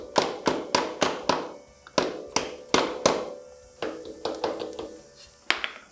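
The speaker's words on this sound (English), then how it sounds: "Give that a bit of a knock." A rusty pin on a 1963 Bolens Husky 600 garden tractor struck repeatedly with hammer and punch: about fifteen sharp metallic knocks in uneven bursts, close and crisp with short ringing decays and brief pauses between groups.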